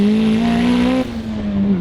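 Tuned Hyundai Genesis Coupe 2.0T with turbo, around 520 hp, driving on a rough road; a loud, close engine drone with a rising whine cuts off partway through, the turbo blow-off valve venting as the revs drop.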